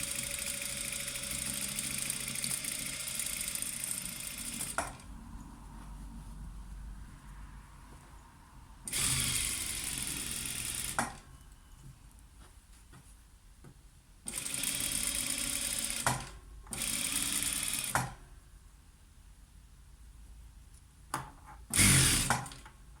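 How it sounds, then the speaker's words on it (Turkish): Sewing machine stitching a waistband onto a flared skirt, running in several loud bursts of steady mechanical whirring separated by quieter pauses. "İğnelerimizi dik taktığımız için makinamız rahatlıkla üstünden geçecektir."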